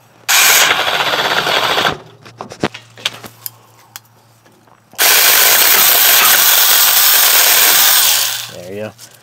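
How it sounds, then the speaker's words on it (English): Alloyman mini chainsaw cutting a small tree branch: a loud, high whine in a short burst, a pause with clattering handling noises, then a longer sustained cutting run that ends as the piece drops. "I'll try to cut this small piece off."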